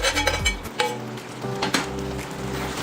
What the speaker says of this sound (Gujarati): કેપ્સિકમ અને પનીરવાળું જે મિશ્રણ હતું એ ઉમેરી દઈશું